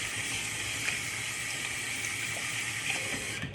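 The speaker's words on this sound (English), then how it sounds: "you turn on your water to add on the extra few seconds" Tap water runs steadily from a faucet for hand washing, a smooth, continuous hiss and splash at close range, with no talk.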